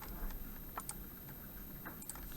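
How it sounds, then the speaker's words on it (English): Fingers tap out a short, irregular burst of keystrokes on a computer keyboard, a few sharper clicks standing out against a faint steady background hiss. "typing in an answer."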